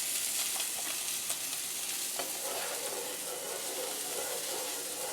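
Beef tenderloin sears in a hot pan with butter, garlic and thyme, giving a steady, close, dense sizzle with faint stirring and no talk.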